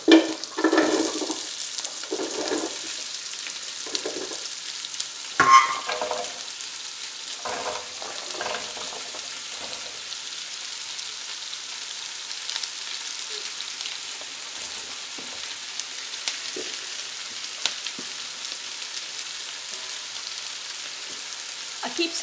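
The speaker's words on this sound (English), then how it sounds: "I'm gonna roast some onions" Onions roasting in butter in a pan give a soft, continuous sizzle, with clustered stirring clatter near the start and then a long, even, quieter frying hiss.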